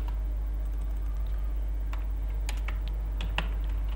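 Someone typing on a computer keyboard at close range, with light clicky keystrokes that start sparse, turn into a quicker irregular burst in the second half, and run over a constant low hum, no voices.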